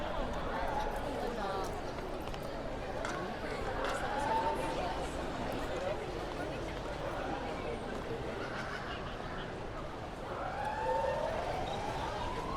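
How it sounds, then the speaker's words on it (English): Evacuation alarms wail in the distance from buildings being cleared after an earthquake at Mactan Newtown, faint rising and falling tones over constant outdoor street noise. "You can hear the evacuation alarms going off."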